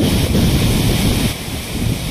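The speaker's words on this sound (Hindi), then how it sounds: "देखिए वहाँ भी कितना जोर पानी फुवारा की तरफ निकल रहा है।" Water gushes forcefully from the open canal gates of the Rengali dam, a steady loud roar and rush with heavy wind buffeting, unbroken throughout.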